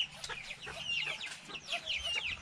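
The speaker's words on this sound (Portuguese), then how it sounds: "E essas galinhas aqui?" Chickens on a rural farm cluck and squawk in a busy, overlapping chorus, with quick repeated calls close by at moderate volume and no talking.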